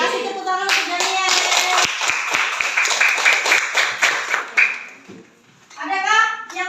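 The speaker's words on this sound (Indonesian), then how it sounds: "Kasih tepuk tangan untuk Daniel." A classroom group claps together for several seconds amid children's chatter, the applause fading out before voices continue.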